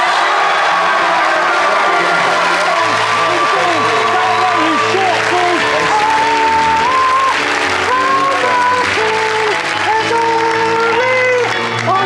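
Studio audience of a British comedy show applauding, a loud sustained wash of clapping mixed with cheers, whoops and shouts throughout.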